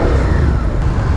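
A stock 2017 Suzuki SV650 motorcycle with about 20 miles on it runs close by, its engine note a steady, loud, low rumble that holds without pause for the whole moment.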